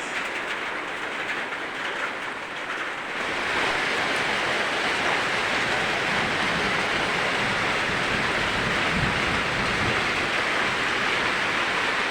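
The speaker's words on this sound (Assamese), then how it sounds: "পূৰা জোৰকৈ বৰষুণ আহি গ'ল" Dense, roaring downpour that swells louder after a few seconds and holds steady, a continuous wash of heavy rain with no voices.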